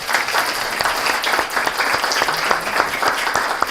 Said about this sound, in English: So how about another big round of applause?